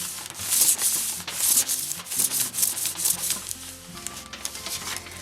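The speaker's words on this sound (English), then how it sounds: "I'm going to roll it over the edge of the table a couple of times." An aluminum can rolled over a table edge under a rubber-gloved palm makes a steady scraping, rubbing crinkle, close and continuous with rhythmic swells.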